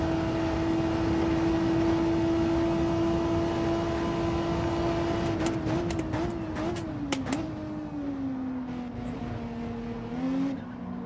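Toyota Supra racing engine in Gran Turismo 7, a loud, steady high-rev drone held close throughout, its pitch sagging gradually midway amid a cluster of sharp clicks and shift blips, then briefly rising again near the end, with no voices.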